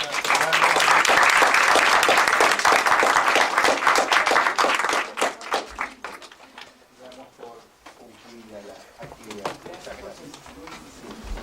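A lecture audience at a university talk on youth and technology gives a loud round of applause that fades after about five seconds, followed by murmuring voices and movement in the room.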